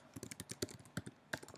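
Someone types on a computer keyboard to rename a sheet in an Excel spreadsheet, producing a close, quiet run of about a dozen uneven key clacks with a few sharper taps.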